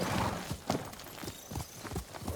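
Horse hooves clip-clop in a loose, uneven rhythm of dull thuds, moderately close, over a soft ambient background with no talking, in the video game Ghost of Tsushima.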